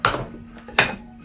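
A pan lid set down with a metallic clank, then a second knock as the pan is moved aside on a kitchen worktop; two short close impacts with a brief gap between.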